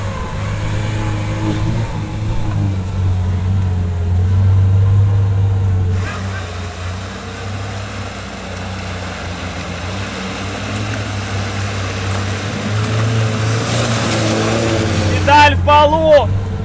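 An old Soviet car engine drones hard with the pedal floored, holding a loud, steady low roar with shifting revs under excited talk, and a brief burst of clatter near the end.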